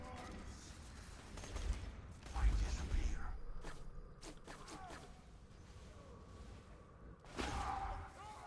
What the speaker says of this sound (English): Got a good kill there. At a decent range with the Sledge's shotgun.